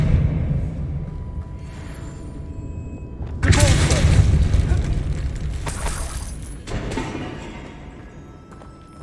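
A spell cast in the Hogwarts Legacy video game lands as a sudden booming burst partway through, followed by rumbling crackle that gradually fades over steady game ambience.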